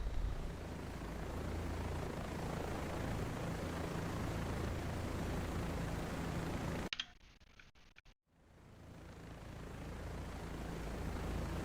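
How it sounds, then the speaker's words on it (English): Rotor drone of a small Kiowa helicopter in a holiday-themed multiplayer video game, a steady broadband whir that cuts out abruptly near the end, then swells back in after a brief quiet gap. "That little Kiowa is just such a small aircraft."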